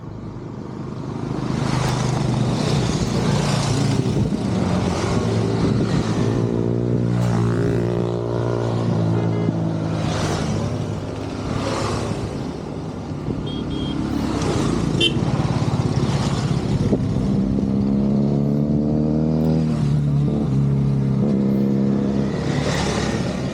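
A group of motorcycles, including Yamaha R15s, idles and revs on a ride. Engine hum and rising and falling revving sweeps are heard close by, with a steady motor drone throughout.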